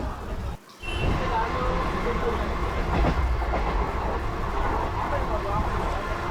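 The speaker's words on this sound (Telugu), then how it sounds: "విజయవాడలో బయలుదేరింది ట్రైన్" Passenger train pulling out of Vijayawada station, a steady loud rumble of wheels on rails with faint clickety-clack after a brief dip at the start, with a voice speaking over it.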